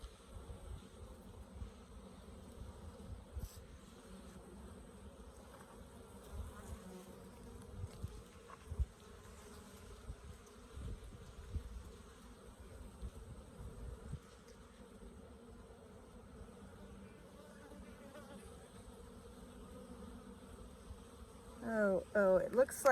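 Honey bees from a laying-worker colony buzz in a low, steady drone, with occasional louder passes of individual bees close by.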